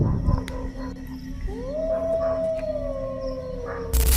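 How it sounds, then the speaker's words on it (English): A loud, eerie howl with a siren-like quality rises and holds a long wavering tone over distant background noise, ending in a sudden burst of noise. "Cutting through the barking was an unbelievably loud howl, one so powerful and eerie that it sent chills through everyone who heard it."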